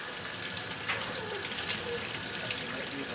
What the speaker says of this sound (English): I'm going to go ahead and drain and rinse all of these cans of beans